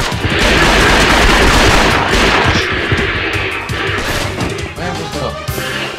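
Dense, continuous gunfire with heavy booms and explosions in a PS4 video game during a livestream, loud and sustained, with a voice speaking briefly over it.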